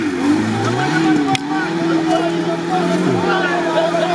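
A Lada Zhiguli car slides sideways while driving off-road, the engine droning and rising in pitch close by, with a brief thump and people talking over it.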